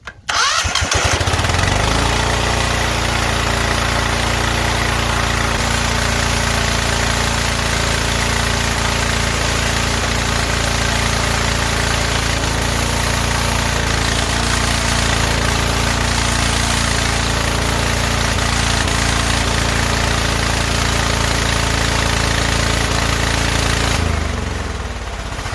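A Cub Cadet 2135 lawn tractor engine cranks and catches, then settles into a loud, steady idle that runs unbroken for over twenty seconds before cutting off near the end.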